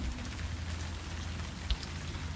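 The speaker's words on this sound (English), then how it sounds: "Then one day it started to rain." Steady rain falls in a dense, continuous patter of drops striking a surface, even and unbroken throughout, with one slightly louder drop or tap near the end.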